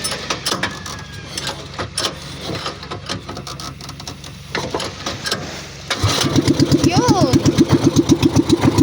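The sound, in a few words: motorcycle engine starting and idling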